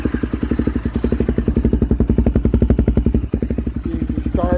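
A used, fuel-injected 2016 Honda CRF250L with 12,311 miles on it starts right up and settles into a fast, steady thumping idle close by, with a short voice at the very end.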